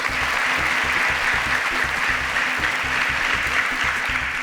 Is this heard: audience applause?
yes